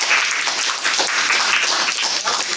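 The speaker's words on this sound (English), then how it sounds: "Let's give an extra round of applause to our timer" Dense, loud applause from a Toastmasters meeting audience, a continuous wash of many hands clapping close by for the whole stretch.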